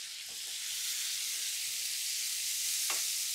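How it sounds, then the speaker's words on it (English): A grilled cheese sandwich fries in butter on a grill, giving a steady soft hiss with a few faint scrapes. The sound is quiet and continuous, with no voices. "grilling cheese for a grilled cheese sandwich"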